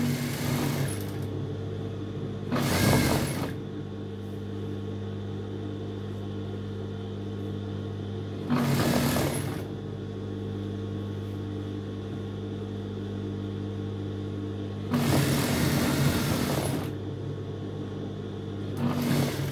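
A sewing machine stitching fabric pieces together in three short bursts of rapid mechanical whirring, separated by pauses filled with a steady low hum.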